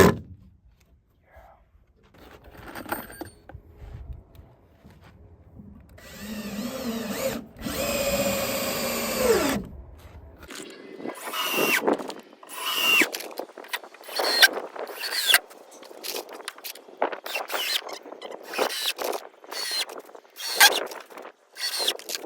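A power drill drives screws into a board on a desert stargazing platform build, giving several whirring bursts separated by pauses, then a string of shorter rattling pulses close by.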